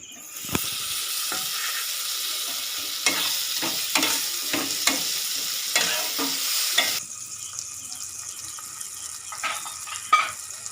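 Soya chana masala is stirred in a pan after chopped tomatoes go in, giving a loud steady sizzle with scraping stir strokes; the sizzle drops suddenly partway through, and the scraping continues.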